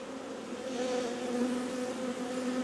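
Honeybees buzz steadily at an open hive during queen installation in a bee yard, a dense, continuous close drone with no talking.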